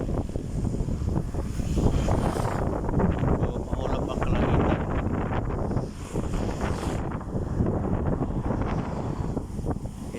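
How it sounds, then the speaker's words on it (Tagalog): Strong wind buffets the microphone in a steady, loud roar, with gusts and faint talk mixed in throughout. "lakas ng hangin ngayon"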